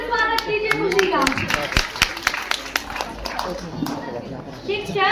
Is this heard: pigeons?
no